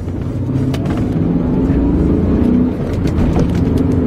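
A BMW E39 M5 engine pulls hard under acceleration with a loud, continuous low rumble that holds steady from start to finish.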